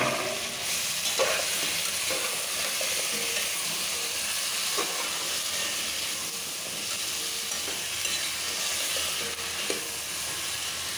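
Spices frying in a pan of curry give a steady, loud sizzle with occasional stirring scrapes, close up and with no voices.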